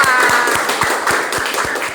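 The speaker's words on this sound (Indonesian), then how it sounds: "Beri tepuk tangan buat kelompok 4." Applause for a student group in a classroom, heard as a steady run of evenly spaced, fairly loud hand claps that fill the whole stretch without talk.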